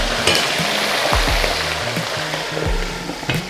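Chili and shallots frying in hot oil for sambal bawang, giving a continuous dense crackling sizzle with scattered pops, close and steady throughout.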